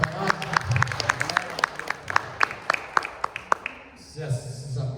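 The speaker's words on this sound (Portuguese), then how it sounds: "Se esses aplausos foram para Jesus, me perdoa, você vai ter que aplaudir de novo" A church congregation claps during a lively worship service, sharp individual claps ringing out in an uneven rhythm over murmuring voices and background music, fading toward the end as a low hum continues.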